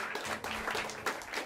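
Audience applause in a small live jazz club, a brief burst of clapping from a seated crowd after a quartet's set, steady and fairly close over roughly a second and a half.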